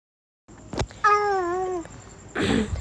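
A cat sitting outdoors gives one clear, drawn-out meow, close and loud, with a brief rustle just before and a burst of noise just after.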